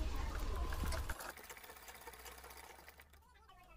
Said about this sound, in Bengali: এবার মাঝখান থেকে আমাদের ভালোভাবে সেলাই করে নিতে হবে